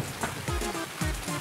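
Rain falling in the video game Escape From Tarkov, a steady close hiss of drops with a few tonal sweeps gliding downward through it, and no talking.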